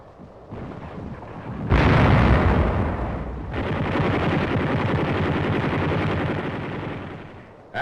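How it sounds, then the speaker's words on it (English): Gunfire from a 57mm gun in a 1944 wartime newsreel at the Château de Belfort fortification: loud blasts followed by a sustained rumbling roar, ending in another sharp report. "Commando d'Afrique man a 57mm gun."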